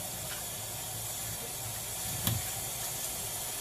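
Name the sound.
collard greens being washed under running water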